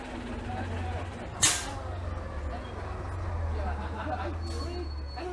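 A truck passing on a street outside a café at Le Marché St. George, with a low engine rumble, a sharp air-brake hiss and a faint high beep, under background chatter.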